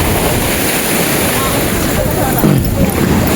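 Sea surf washes continuously near a coastline by a cave area, a loud, steady rush heavily buffeted by wind on the microphone, with voices present.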